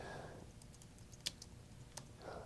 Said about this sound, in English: Who is typing that in?